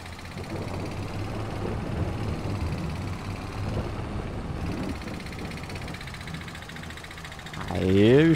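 Mini tractor engine in Farming Simulator 22 idles and chugs steadily at mid pitch while driving through mud on a farm, a continuous close drone with a brief rise near the end.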